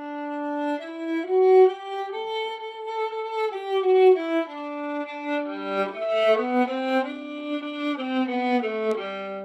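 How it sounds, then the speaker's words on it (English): Solo viola bowed close to the fingerboard, a smooth, soft and breezy melodic line of sustained notes with gentle swells, played near and alone. "the second kind of tone you can produce on your instrument is you can play really close to your fingerboard"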